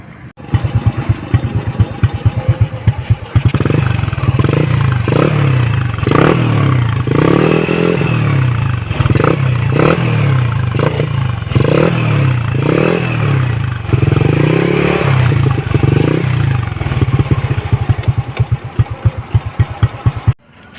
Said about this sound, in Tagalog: papakinggan natin ngayon yung tunog ng pipe ni Sir